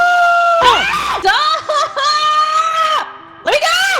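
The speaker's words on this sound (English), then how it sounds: "She's screaming at the top of her lungs" A woman screams at the top of her lungs in another room while playing the video game Repo, with repeated sharp, pitch-bending shrieks and brief pauses across the stretch.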